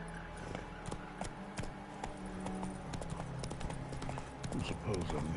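Roach the horse galloping in The Witcher: Wild Hunt, a quick rhythmic clip-clop of hooves running steadily under game music and ambient sound, with a voice talking over it.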